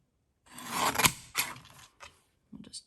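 A mini paper trimmer slices through card stock in a few short rasping strokes, the first longest, then two brief scrapes and a final light click, close and quiet.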